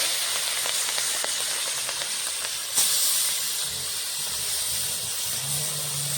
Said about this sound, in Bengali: তেলটা গরম হয়ে গেছে, মেখে রাখা মাছটা দিয়ে দেবো।